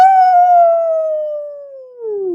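A human voice imitates a coyote howling in a read-aloud children's story: one long, loud, smooth wail that slowly falls in pitch and drops lower at the end.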